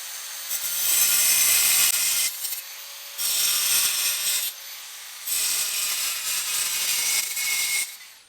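Angle grinder cutting rusty metal on an old HEMI hot rod, three loud harsh bursts of grinding separated by short pauses, close and alone.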